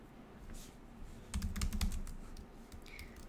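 Quick clicking keystrokes on a computer keyboard, a short close burst of typing over a faint room hum, with scattered lighter taps before and after.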